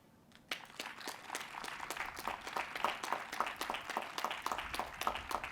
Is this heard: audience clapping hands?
yes